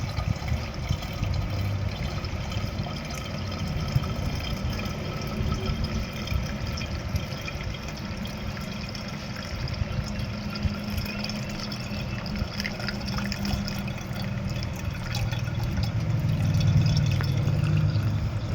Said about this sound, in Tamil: இதை வந்து நல்லா ஒரு வடிகட்டி வச்சு வடிகட்டிக்கிறோம்